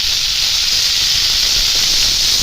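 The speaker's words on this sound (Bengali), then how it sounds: "ওর মধ্যে আমি বেগুনটা শাকটা দিয়ে দিচ্ছি" Chopped eggplant and kule shak greens hit onions already frying in oil, producing a loud, steady, close-up hiss of sizzling steam that holds evenly throughout.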